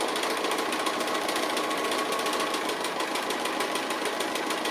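A sewing machine runs fast and continuously while free-motion stitching an appliqué, giving a loud, rapid, even needle chatter with no pauses and no voices.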